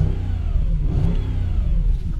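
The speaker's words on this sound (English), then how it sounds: "listening to the pure sound of this V8 beauty" A 4.2 V8 Audi A6 with its exhaust cutoff valve open revs hard with a deep, throaty exhaust roar, loud and close, rising and falling continuously with no voices.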